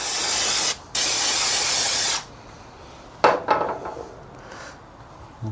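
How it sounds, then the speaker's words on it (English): Brake cleaner hisses loudly from an aerosol can onto the front brake of a 2008 BMW E60 550i M Sport in two close bursts with a brief break, followed by quieter clatter as parts are handled. "Some brake cleaner."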